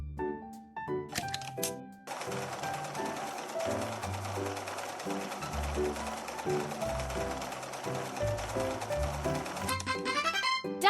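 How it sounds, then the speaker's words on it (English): A sewing machine stitches fabric pieces together in a fast, steady mechanical run lasting several seconds, with scattered clicks before and after, set against background music. "Let's sew the pieces together."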